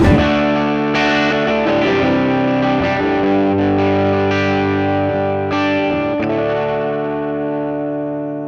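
Electric guitar played through a Hotone Ampero 2 Stage multi-effects pedalboard, a full patch with distortion, chorus and delay: sustained, driven chords ringing loud and steady, with a few fresh strums, and no talking.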